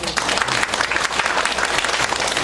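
Lively audience applause at a lifelong-learning festival conference in Gwangmyeong, a dense, loud burst of clapping from the hall welcoming the first panelist, with no speech over it.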